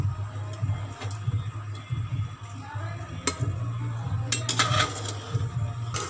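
Metal clinks and scrapes of a spoon against a cooking pot as mutton pieces with garlic, onion and chili masala are moved into it, with a steady low hum underneath and scattered sharp clatters.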